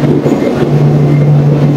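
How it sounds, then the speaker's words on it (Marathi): A Mangalore-bound passenger train arrives at a station nearby, rumbling steadily with a loud continuous low hum and rolling wheel noise and no talk. "चला फायनली मँगलोर ट्रेन आलेली आपली"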